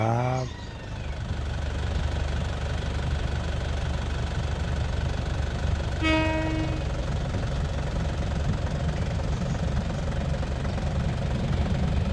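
A diesel train, number 4384, rumbles steadily as it pulls into Ban Laem station, with a brief horn blast partway through and continuous low mechanical drone throughout.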